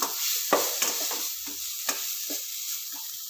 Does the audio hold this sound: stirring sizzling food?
yes